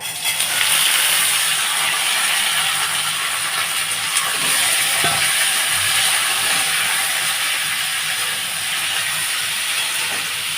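Loud, steady hiss of vegetable peels (bottle gourd, potato and pointed gourd) frying in mustard oil with five-spice in a hot wok, continuous and close throughout, with no voices.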